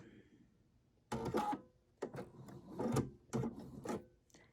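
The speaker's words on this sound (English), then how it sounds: "on my machine, it takes 1 stitch back when it ties off" A home sewing machine stitches a lone star quilt block in several short bursts. Each burst is a close, rasping run of stitches with brief pauses between them, and no talking is heard.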